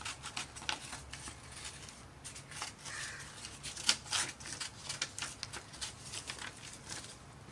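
Scissors snip through paper to cut out a smiley face, a run of short, close, crisp cuts and rustles at an irregular pace, fairly quiet with no talking.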